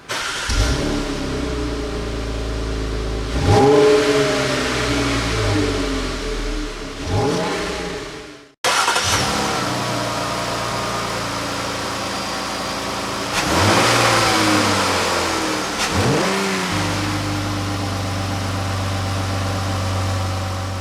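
A 2017 Jeep Cherokee Trailhawk 4x4 engine starting and running: a steady close idle, one cut-out about halfway, then the engine running again with several throttle blips rising and falling in pitch, no talk over it.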